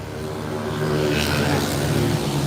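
At a used tractor dealer in Udon, a secondhand tractor engine idles steadily nearby. Its low, even chugging drone holds at a constant loudness with no pauses.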